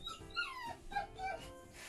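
A dog whimpers and whines in a series of short, high, wavering cries, fairly faint and close, with brief pauses between them.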